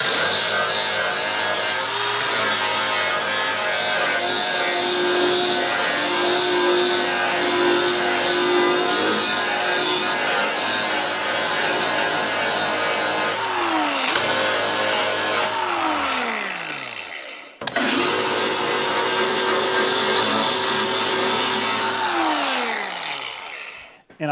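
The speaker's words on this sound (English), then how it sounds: "I'm going to grind from right here. Just going to grind through the skin." Angle grinder cutting through the steel door skin of a Chevy C10 truck, a loud continuous high whine with two pauses as the disc spins down, then starts up again.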